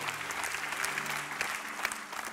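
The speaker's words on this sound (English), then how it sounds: "Give God a good clap offering and believe it" A church congregation claps together in steady, dense applause during a sermon, sustained and fairly loud throughout with a faint hum beneath it.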